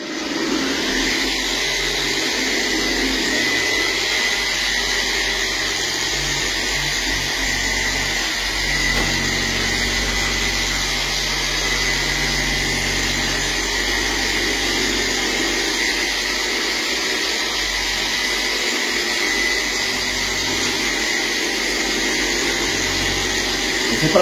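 A car wax polishing machine runs steadily and close, applying Gyeon Q2 wax with a continuous whirring motor drone that barely varies in level throughout, with a voice speaking over it.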